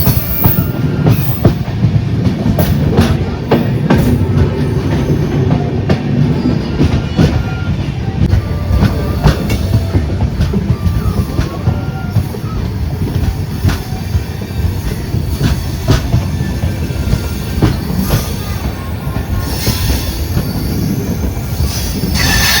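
A passenger train travelling from Ernakulam toward Velankanni runs along a hilly route near Punalur, heard from on board as a loud continuous rumble with rhythmic wheel clatter and recurring metallic squeals from the wheels.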